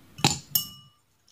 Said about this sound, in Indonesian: Siapkan gelas